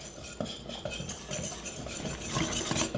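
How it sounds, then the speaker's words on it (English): Whisk stirring dry ingredients, baking powder among them, in a mixing bowl, with quick, steady scraping and clinking strokes close up, gaining intensity toward the end. "We're just going to whisk that all together to get it all mixed up"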